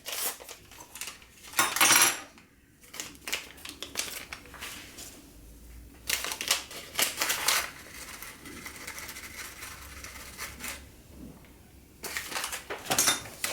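A utensil mixes cookie dough with flour and a teaspoon of baking powder in a bowl, giving intermittent scraping and clinking bursts separated by quieter pauses over several seconds, with no speech.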